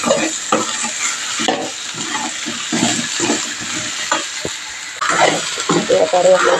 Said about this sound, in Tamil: வெண்டைக்காயை சேர்த்து இது நல்லா வதக்கணும்